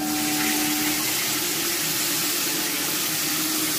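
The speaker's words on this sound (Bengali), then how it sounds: "এরপর এর মধ্যে সামান্য একটুখানি জল দিয়ে দেবো" Water pours into a cooking pan of spice paste, producing a steady, close rushing and splashing hiss that lasts the whole short moment without any talk.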